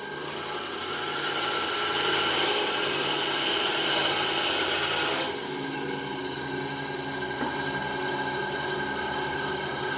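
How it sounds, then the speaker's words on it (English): Bandsaw cutting a piece for a 10th-century seax hilt, a steady close mechanical whir with the blade biting through the material, the tone dropping as the cut finishes and the saw keeps running. "I'm going to just nip to my bandsaw, which is literally right next to me"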